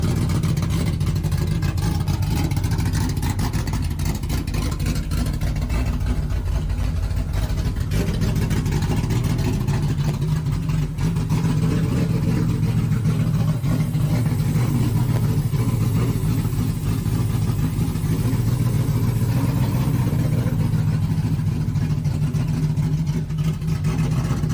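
Car with a built 3.8L engine revving and running in a played-back recording, a sustained loud engine drone with rising and falling revs and low rumble throughout, muffled and steady with no clear breaks.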